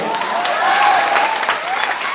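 Dense clapping from a large audience at a speech meet-up in Patna, a loud continuous wash of applause with a voice carrying faintly over it.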